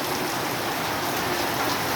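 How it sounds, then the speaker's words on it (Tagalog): Rain falling over flooded school grounds, a steady broadband wash of drops and running water that stays even and fairly loud throughout, with no voices. "antay lang tayo guys na maundang ang ulan"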